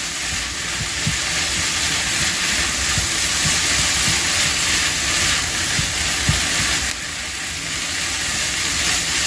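Continuous loud sizzling hiss of fried rice frying in a pan, with occasional clinks and scrapes underneath, easing slightly toward the end.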